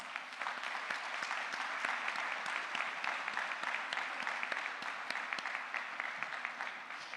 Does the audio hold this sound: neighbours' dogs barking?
no